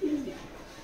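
A pigeon from a pair gives a short low coo at the start, close and fairly clear, then fades into a quiet room background.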